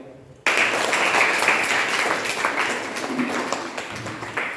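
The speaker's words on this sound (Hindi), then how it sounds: "ताली बजाओ।" Children in a Hindi maths lesson on multiplication tables break into clapping that starts abruptly and continues steadily for a few seconds, fairly loud and close, with some voices mixed in.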